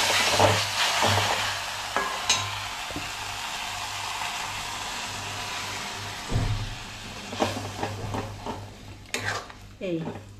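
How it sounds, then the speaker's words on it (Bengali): A spatula scrapes and clatters around a pan as spinach gravy for palak paneer fries and is stirred, with soft sizzling and intermittent metallic knocks close by. "পালং শাকের গ্রেভিটা দিয়ে আর একটু ফ্রাই মতো করবো।"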